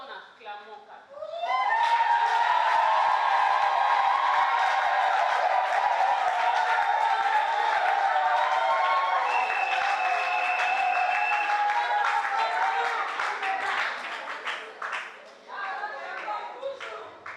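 Women of a Congolese association applaud and cheer in congratulation, a sustained crowd of clapping with high ululating and shouted voices over it, loud and continuous before thinning near the end.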